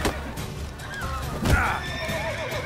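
Horses in the Witcher 3 video game whinny loudly over a busy game soundscape, with faint hoof clip-clops mixed in; one strong neigh rises and trails off in the middle.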